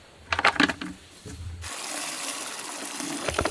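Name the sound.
scooping water from a spring with a big spoon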